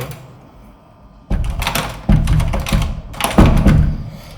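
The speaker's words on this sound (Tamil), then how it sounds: "இந்த மாதிரி டோரை யாராவது ஓப்பன் பண்ணுற மாதிரி இருக்குங்க" A house door being opened at night, a sudden thunk followed by rattling, scraping clatter in a few loud close bursts over faint room noise.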